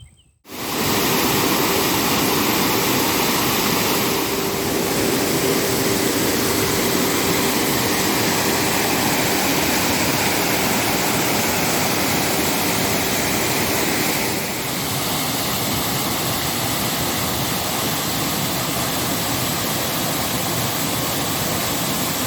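A small river and nearby springs rush steadily along a hiking path by Lac Sainte-Suzanne near the Caramy falls and dam, giving a loud, continuous broadband wash of water close by throughout, with no voices.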